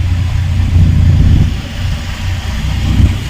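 An auto rickshaw engine drones steadily at close range, a low throbbing hum with slight swells in loudness throughout.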